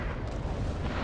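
Artillery fire in the video game Rising Storm, a dense continuous rumble of distant booms filling a short stretch, loud and low without distinct separate blasts.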